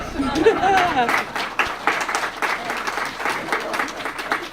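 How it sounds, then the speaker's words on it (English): An audience at a remembrance and reconciliation panel conversation claps in sustained, full applause, with a voice speaking over the start before the clapping carries on alone. "I think that deserves a round of applause."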